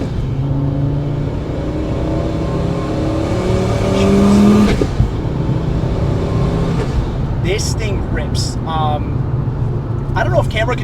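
A turbocharged 5-cylinder Volkswagen engine revs and accelerates hard with a rising drone, then pops and chatters as the driver lets off, with someone talking over it.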